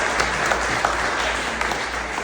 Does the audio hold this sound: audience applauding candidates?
yes